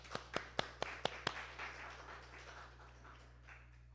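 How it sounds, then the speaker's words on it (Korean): A church congregation claps for members' birthdays during a Sunday service, about six sharp, spaced claps in the first second and a half, then a faint room hush over a steady low hum. "박수 주십시오"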